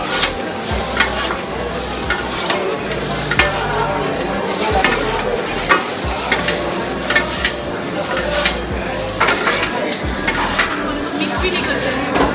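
Food is stirred and tossed over a sizzling barbecue grill at a Kolkata buffet restaurant, with a steady frying hiss and repeated scraping and clinking strokes throughout, loud and close.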